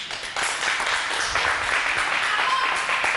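Audience applause fills a courtroom-style hearing, a steady broad wash of clapping that stays fairly loud and even throughout, with no voices speaking over it.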